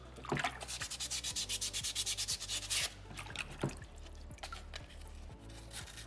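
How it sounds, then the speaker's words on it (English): Close, steady rhythmic scraping of sandpaper rubbing over soapstone carving, quick back-and-forth strokes, with brief wet splashing and dripping between passes. "So I'm kind of sanding 2 different spots at once."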